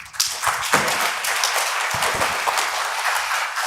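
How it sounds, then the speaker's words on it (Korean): Applause fills a conference hall in Daegu after a presentation on digital twin technology for an autonomous driving zone, a dense, sustained roar of many hands clapping that starts with a few sharp claps and holds steady. "여러분 다시 한번 큰 박수를 부탁드리겠습니다"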